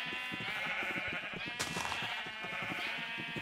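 Sheep bleat repeatedly in a wilderness video game, a cluster of wavering nasal calls that overlap each other at moderate volume, with no talking.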